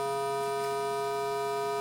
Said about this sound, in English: Now, the square wave is